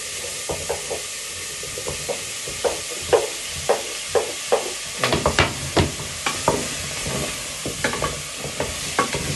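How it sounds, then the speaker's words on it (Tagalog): Carrots and potatoes are sautéed for afritada in a pan over steady sizzling, with a spatula scraping and tapping in an uneven rhythm. The scrapes grow busier midway, and no one speaks. "So, sauté mo lang yun din siya."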